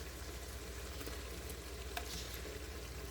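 Boneless chicken with black pepper fries in a handi with a steady, dense sizzle that stays loud and even throughout, with an occasional faint stir.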